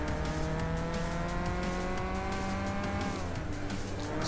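Race car in the video game Gran Turismo 6, held in second gear at high speed: a loud, sustained engine whine with rising harmonic tones and a hint of tire squeal, continuous throughout with no talk.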